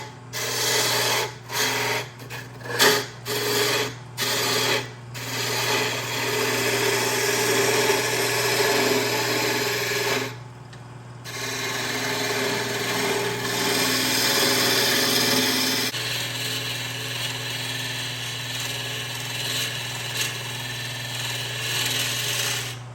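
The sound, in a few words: roughing gouge turning a wooden chisel handle on a lathe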